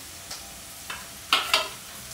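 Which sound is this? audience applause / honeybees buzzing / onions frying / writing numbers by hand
onions frying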